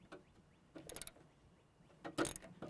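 A ratchet clicks in short bursts as it loosens a small bolt under a lawnmower carburetor, quiet close mechanical ticking separated by pauses.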